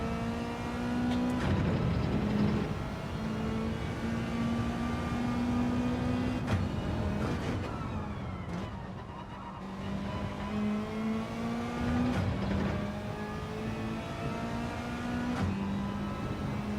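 A race car engine in Gran Turismo 7 holds a steady loud drone throughout, rising and settling through throttle and gear changes with harmonic whine, briefly dipping around the middle before pulling hard again.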